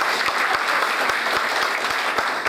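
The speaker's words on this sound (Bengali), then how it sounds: "আমি তাদের জন্য একটা হাততালি আশা করবো।" An audience gives hearty applause to the team that organized the program, continuous dense clapping with a few louder regular claps punctuating it, no voices on top.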